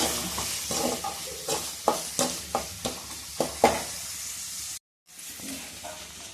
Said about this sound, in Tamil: கட் பண்ண ஆனியன் போட்டுக்கலாம். கருவேப்பிலையும் போட்டுக்கலாம். நல்லா கிளறி